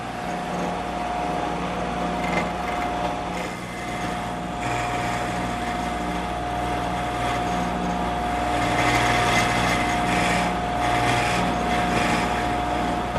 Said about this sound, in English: Now I've installed a triangular cutter, and I'm going to use that to cut the details first.